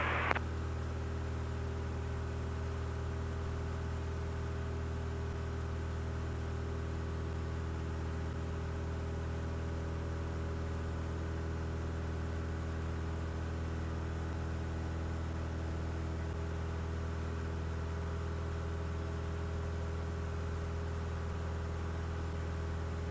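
A small airplane's engine drones steadily in flight, heard from inside the cockpit, a constant dense hum with strong low harmonics that holds unchanged throughout.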